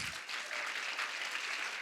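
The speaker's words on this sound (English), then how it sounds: "they deserve their own round of applause, Roy and Julieta." Audience applause at a sustainability conference closing session, a brief steady wash of clapping, fairly faint and even throughout.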